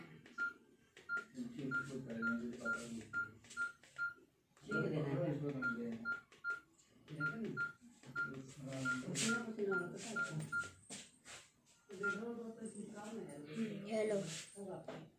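A telephone keypad sends out a string of short, evenly spaced dialing beeps in several bursts, with someone talking loudly over and between them.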